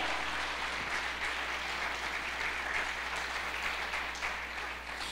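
Worshippers at a church service applaud, a sustained and fairly even burst of many hands clapping that holds for several seconds over a low steady hum.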